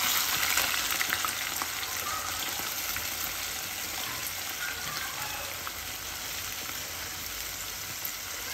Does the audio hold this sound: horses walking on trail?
no